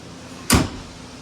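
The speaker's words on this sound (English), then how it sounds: "Doors shut nice and tight." An upper door on a Polaris General XP4 side-by-side slams shut once, a single solid thud with a brief low rumble, close and alone against quiet background noise.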